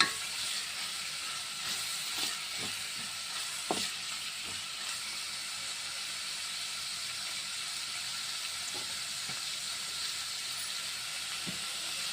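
Thinly sliced onions fry in oil in a pan for mutton keema curry, giving a steady, close sizzling hiss that runs unbroken throughout, with a few faint clicks of stirring.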